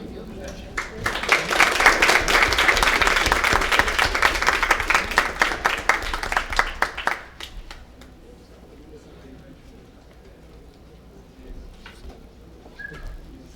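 An audience at a municipal education council swearing-in ceremony claps to welcome new civil society members, a loud burst of brisk clapping for several seconds that stops abruptly, leaving quiet room noise with faint voices.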